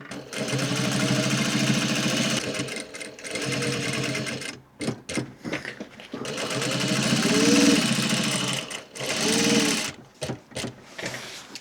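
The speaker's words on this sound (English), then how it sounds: "carry on that top stitch through, and then you can hit a back and forth stitch" A sewing machine top-stitches a pair of dungarees past a belt loop, whirring steadily in long close runs broken by brief stops and short stuttering back-and-forth bursts.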